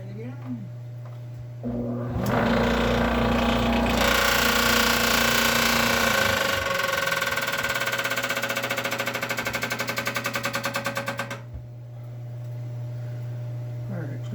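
A homemade dust collector spins up to a loud, steady roaring whir with a rough rattling pulse, running for about nine seconds before cutting off, with a low hum beneath throughout.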